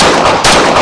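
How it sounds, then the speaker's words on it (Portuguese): A single sharp, loud rifle gunshot at a shooting course bursts out with a broadband crack, then a brief ringing decay at close range. "Ela já tá pronta pro disparo."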